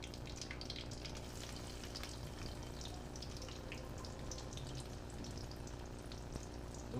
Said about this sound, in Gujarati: લીમડાના પાંદડા નાખશું એટલે આગળ તરતડિયા એવા બોલશે કે તમે વાત કરો.